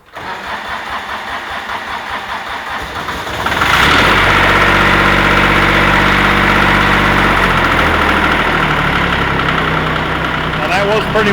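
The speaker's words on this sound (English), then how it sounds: "Was pretty much a cold start." Cub Cadet 1772 garden tractor engine cold-starting after sitting unused: a quiet lead-in, then at about three and a half seconds the engine catches and settles into a loud, steady, close idle that runs to the end, with voices audible.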